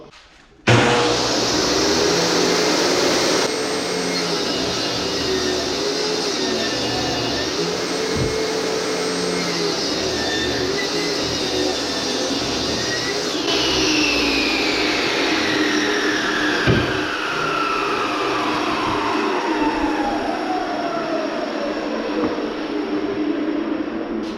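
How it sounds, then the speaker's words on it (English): A table saw cutting wood for cabinet doors: the blade spins up abruptly and then whines steadily and loudly for a long stretch, with small shifts in pitch as the boards feed through. "And now you guessed it, back to the table saw."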